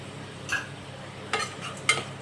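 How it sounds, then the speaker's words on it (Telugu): Tomatoes with salt, chilli powder and coriander powder are stirred in a pan for tomato rice, with a few soft scraping strokes of the spoon over a faint, steady sizzle. "కొంచెం బాగా కలబెట్టేసి మగ్గనివ్వాలండి టమోటాలు బాగా మగ్గిపోతాయి"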